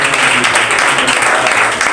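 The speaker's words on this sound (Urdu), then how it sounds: "یسوع کے جلال کے لیے تالیاں اس کے اس برے کے لیے." Congregation at a Sunday church service claps together in a loud, dense burst of applause that stays steady throughout the brief moment.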